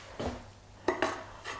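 A spatula scrapes chopped vegetables off a cutting board into a beef soup pot, giving a few close clinks and knocks of metal on cookware with soft scraping between them.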